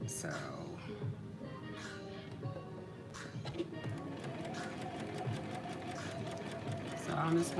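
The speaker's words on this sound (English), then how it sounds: "I'm just going to take my time and sew, because the pins are still in here" A sewing machine stitches slowly through fabric with pins still in place, a steady mechanical whir running throughout with someone talking over it.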